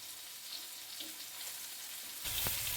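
Mackerel (bangda) fries in a pan over a medium gas flame, giving a steady hiss and sizzle that swells louder and crackles near the end.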